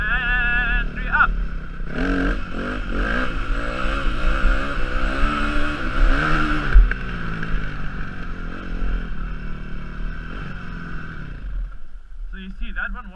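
A dirt bike engine revs hard through a wheelie, climbing and falling in pitch over several long pulls before cutting back near the end, with wind noise and a voice at times.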